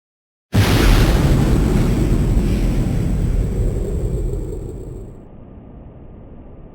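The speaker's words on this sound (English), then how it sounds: "the last shot you just saw of the brother setting off or detonating the explosives" Explosives go off near a submarine in a low-budget film scene, a sudden loud roaring blast that swells into a long rumbling wash and slowly fades over several seconds.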